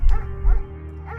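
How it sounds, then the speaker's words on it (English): German shepherd dog in the Firewatch video game, three short yipping barks spaced across a second, close and clear. "There's also an intimidating but gentle-eyed German shepherd."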